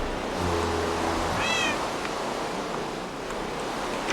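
A cat meows in a video game, giving one rising-and-falling meow over a steady wash of wind-like ambient game noise, with a low droning tone early on.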